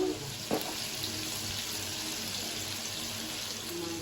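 Water is poured into a spice mix for a Bengali home-cooked dish, a soft, continuous splashing stream with a small knock near the start, close and fairly quiet.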